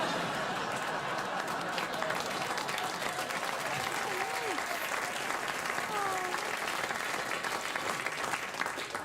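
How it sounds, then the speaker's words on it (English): A comedy show audience breaks into sustained, even applause that sounds full and crowd-sized, with brief voices mixed into the clapping. "That's the applause that hurts my feelings."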